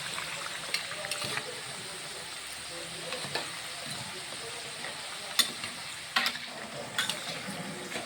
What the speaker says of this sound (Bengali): দেখুন কচুরিগুলি কি সুন্দর ভাজা হয়ে গেছে